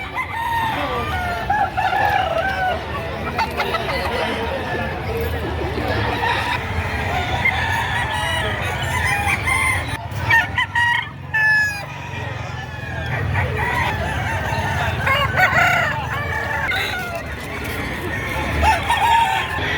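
At a poultry market in Padre Garcia, Batangas, roosters crow and chickens cluck over a dense, busy background, several birds at varying distances, with people chatting faintly in the crowd.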